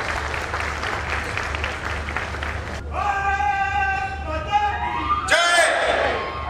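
An audience at a defence exhibition claps loudly to welcome a Kirti Chakra-decorated subedar. The sustained applause is strongest at first, then a voice over the sound system carries on above the fading clapping.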